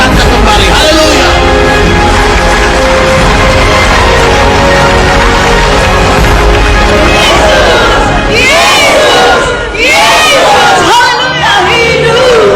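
A large crowd at Mandala Stadium in Jayapura, Papua, at a mass religious rally cheers, shouts and claps loudly, with rising waves of whoops and excited yells swelling in the second half.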